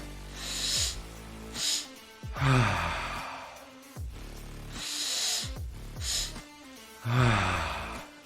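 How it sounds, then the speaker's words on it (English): Deep belly breath drawn in through the nose, then a sharp extra inhale and a long sighing exhale, repeated twice in slow, close, breathy cycles with no talking. "we take a deep breath into our belly through your nose, and then we take one more sharp inhale, and then just exhale, long exhale, sigh"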